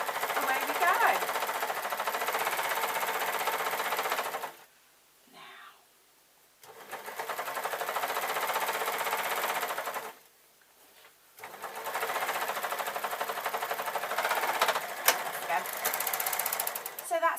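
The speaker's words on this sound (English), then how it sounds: "we've got the needle down and we start it sewing" A sewing machine runs up a mermaid skirt in loud, close bursts of rapid mechanical stitching. It stops twice for short near-silent pauses, then starts again.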